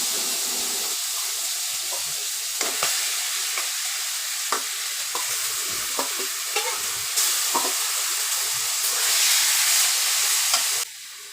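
Whole spices such as cinnamon, bay leaf, fenugreek and cumin sizzle in hot oil as meat for a chicken curry goes in, making a steady hiss with scattered sharp crackles and stirring clicks, no voices.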